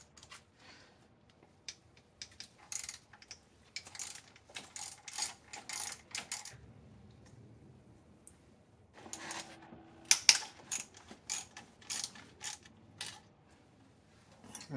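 A hand ratchet works 8 mm bolts loose from the cylinder head of a 2008 Acura MDX, rapid bursts of clicking in several runs separated by pauses, fairly close.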